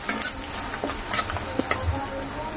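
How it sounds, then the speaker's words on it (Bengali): Onion and garlic fry in hot oil in a pan for a taro dish. A steady, close sizzle is broken by the repeated scrape and clink of a stirring spoon, with no talking. "পেঁয়াজ রসুন এই যে অলরেডি কিছুটা ভাজা ভাজা হয়ে গিয়েছে।"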